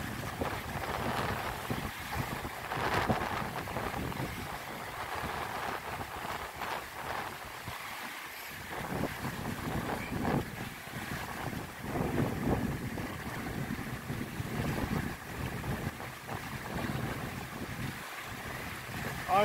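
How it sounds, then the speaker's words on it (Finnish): Strong easterly storm wind sweeps across Lake Kyrösjärvi, a steady roaring rush with gusts and waves, buffeting the microphone continuously, with no talk. "Aikamoinen puhuri, joo."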